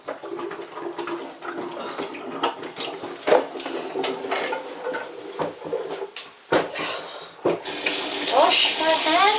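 Water runs from a sink tap in a kitchen while hands are washed, a close, splashing stream with irregular bursts and surges that grows to a fuller, steadier gush near the end.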